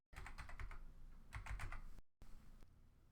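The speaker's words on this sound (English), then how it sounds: "we're just going to type in an example here" Keystrokes on a computer keyboard while entering an example into a website login box, bursts of close clicky taps in two clusters with a short pause between.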